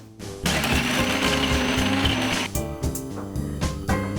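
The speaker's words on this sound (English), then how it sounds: "My 2 slices of bread are going in a food processor because I want to make breadcrumbs out of them." A food processor grinds two slices of bread into breadcrumbs, a loud steady whirring roar close by that starts abruptly, then stutters and pulses toward the end.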